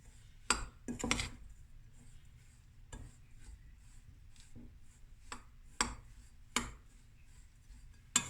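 A spoon stirs a thick coconut and chocolate mixture in a bowl, sending out a few sharp clinks and scrapes against the dish at irregular moments, with quiet gaps between them and no talking.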